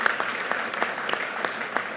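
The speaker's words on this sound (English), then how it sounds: "can you give a big round of applause to the President for joining us today?" An audience at an Illinois event with the President claps steadily in a dense, moderately loud round of applause with sharp individual hand claps standing out, no voices over it.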